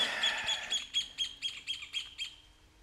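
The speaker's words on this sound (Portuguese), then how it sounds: "até o passarinho assusta aqui" Small bird chirping in a wooded hillside area, a quick series of about eight bright, evenly spaced tweets that fade slightly toward the end, heard clearly over quiet surroundings.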